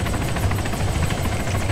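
A helicopter in a video game thrums steadily and close, its rotor beating in a fast rhythmic pulse that stays loud and even throughout, with no talking.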